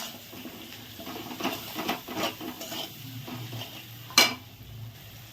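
Cumin, coriander powder and other spices frying with tomato in a pan, stirred with scraping, clinking strokes over a soft sizzle, and one sharp metallic clank near the end.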